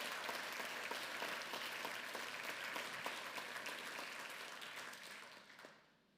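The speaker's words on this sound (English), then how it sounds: "a round of applause" A room of supporters at a fundraising hope program claps together in a sustained round of applause, dense and steady at first, then thinning and fading out toward the end.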